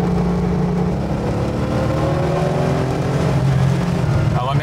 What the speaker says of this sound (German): Man hört schon, dass er auf Last ein bisschen mehr Druck im Auspuff hat, als wenn man nur Gasstöße gibt.